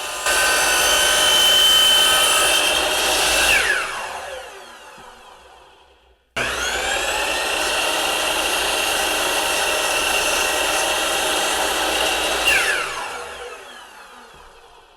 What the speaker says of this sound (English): here you can see me doing this with the miter saw and then doing a test cut to see how clean the cut is